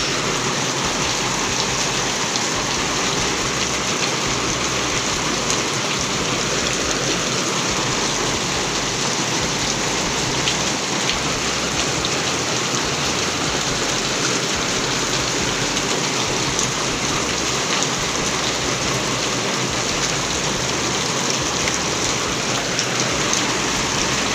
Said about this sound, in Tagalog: Kusog kayong ulan guys.